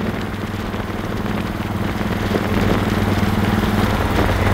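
A Royal Enfield Bullet Classic 350 motorcycle engine idles close by with a steady, low, thumping throb that holds level throughout, growing slightly louder toward the end, with no voices.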